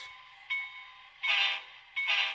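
A thin electronic horn from an HO scale model locomotive's sound decoder sounds in short steady blasts, with harsh hissing bursts between them; tinny and close, no voices.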